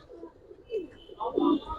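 A pigeon gives a few soft, low coos, rising and falling in short phrases, close by and fairly quiet.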